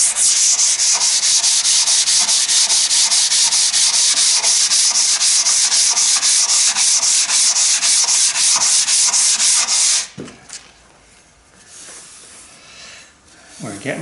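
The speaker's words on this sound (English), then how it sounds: "So now I've moved up to wet sanding." A Stanley hand plane body is wet sanded with 220 grit paper in steady, rhythmic back-and-forth strokes, a loud close rasping hiss that stops suddenly, leaving faint handling noises.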